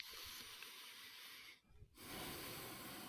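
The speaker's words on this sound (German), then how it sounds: "Da schnauft er, ganz genau." A 60-year-old man snorts and breathes heavily through his nose during an interview, a close, steady, breathy hiss that pauses briefly in the middle, then resumes slightly louder.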